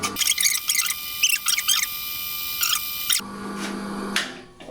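A homemade line boring rig cuts through a V6 engine's upper main bearing shell in an interrupted cut, giving high, thin squealing chirps in irregular bursts over steady machine hum. The tone shifts partway through, and no one speaks.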